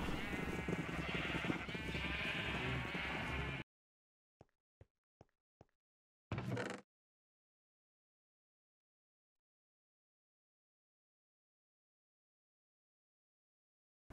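Sheep bleating in a survival video game, heard in a dense burst of layered game sound, then a few short isolated clicks and one brief bleat before silence.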